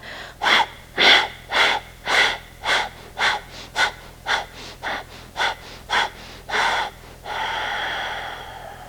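Kapalabhati breath-of-fire yoga breathing: a dozen sharp, forceful nasal exhalations in quick steady rhythm, close and loud, ending in one long drawn breath.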